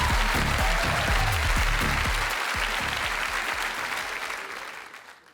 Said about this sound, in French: Mesdames, messieurs, sous vos applaudissements